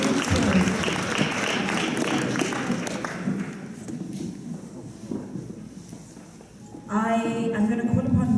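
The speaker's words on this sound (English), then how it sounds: "Another round of applause to all the partners, the sponsors, the mentors" Guests at a celebration event in Nelspruit applaud partners, sponsors and mentors, with strong clapping at first that tapers into scattered claps before a speaker resumes talking.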